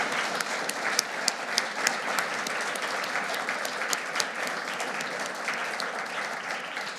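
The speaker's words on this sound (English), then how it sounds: "it should probably be used to give her a round of applause." Applause from the audience at a Bibliographical Society of America business meeting, a steady round of moderately distant clapping with crisp individual claps, sustained at even loudness for several seconds.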